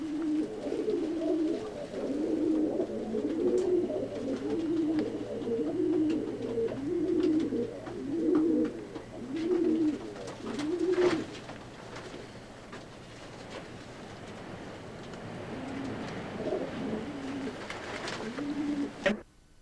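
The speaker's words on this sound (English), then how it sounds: "The Espoir breeding formidable pigeons" Racing pigeons coo in a steady repeating rhythm, close by, for about ten seconds, then softer cooing continues over faint background noise.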